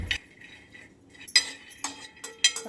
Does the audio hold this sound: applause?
no